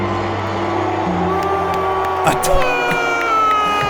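Dense stadium crowd noise at WrestleMania 33 in Orlando's Camping World Stadium while John Cena is in the ring, a loud sustained roar with swelling shouts and brief spikes of jeering, nearby voices mixed in.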